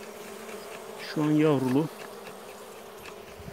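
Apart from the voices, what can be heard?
honey bees at an open hive with brood frames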